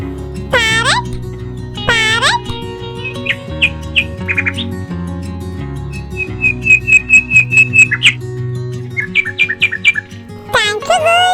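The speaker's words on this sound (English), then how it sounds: "Parrot." Toy parrot and other animal calls: squawks, chirps and whistled bird notes repeat in bursts over a steady electronic musical backing, loud and close throughout.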